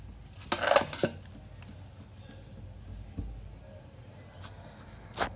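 Scissors snip away extra cloth while a scallop-edged piping back part is stitched: a quick cluster of faint metallic clicks, then isolated snips later, all quiet and close.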